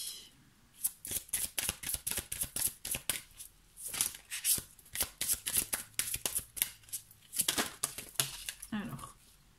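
Playing cards being shuffled in a series of quick, crisp riffles and flicks, close and fairly loud, during a card-drawing activity, with no talk over the shuffling.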